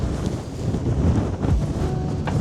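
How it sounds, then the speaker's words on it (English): Strong wind gusting across a hilltop above Manchester city centre, a steady loud rumbling buffet against the microphone with no talk. "is far too windy up here"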